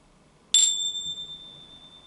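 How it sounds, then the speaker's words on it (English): A single bell struck once to begin a relaxation exercise, a bright metallic ding that rings on with a long, slowly fading tone in an otherwise quiet room. "I'm going to start the exercise with the bell, and then at the end I'm going to finish it with the bell as well."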